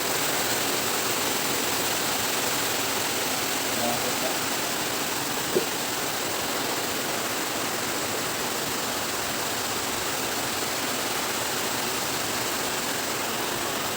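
Steady rain falling outdoors at a house under construction, a dense, even hiss that fills the whole stretch without a break and with no voices.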